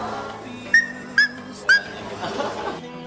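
A 12-year-old boy imitates a dog with his voice, giving three short, sharp yelping barks with whistle-like pitch, spaced about half a second apart over low background noise.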